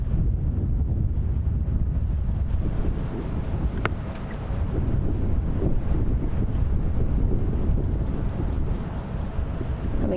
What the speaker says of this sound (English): It's cold, windy weather.